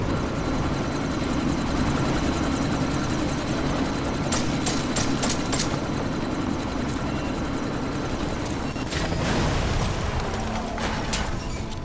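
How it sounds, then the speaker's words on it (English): Helicopter in the video game Deus Ex: Mankind Divided, a steady rotor and engine roar lasting throughout amid a sandstorm, with sharp bursts and impacts breaking in over it partway through. "you need to disable that chopper"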